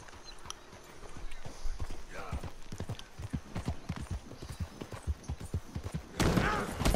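Horse hooves clip-clopping in the Red Dead Redemption 2 video game, a steady rhythmic trot of hoofbeats on ground, with a louder rush of noise near the end and a voice briefly over it.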